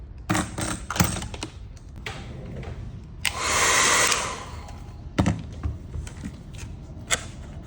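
A blower or heater used for hard-coated lure making gives a steady rushing blast of air for about a second, set among clicks, taps and rattling handling noises of lure-making work.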